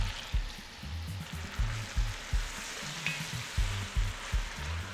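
Pancetta and vegetables, including grated onion, fry in a pan with a steady broadband sizzle, punctuated by a series of low thumps and scraping stirs at a fairly regular rhythm, close and moderately loud, with no voices.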